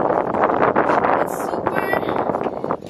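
Gusty wind blowing outdoors on a nice-weather day, a loud steady broadband rush buffeting the microphone throughout with brief rustling swells; voices talk faintly underneath.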